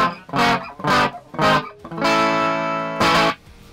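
Electric guitar on a clean setting, run through a Boss GT-1 multi-effects unit into a Marshall amp in a studio: several short, loud strummed chords, then a longer ringing chord and one final strum, with no talking.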